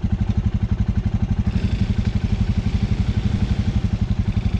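A Kayo Bull 150 motorbike engine pulls away in first gear, a steady close-up throbbing chug with even rapid pulses that holds loud throughout, with no talk over it.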